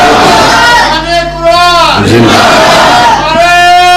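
A large crowd at a religious gathering bellows slogans in unison, loud and near, in swelling chant-like surges with a brief dip in the middle.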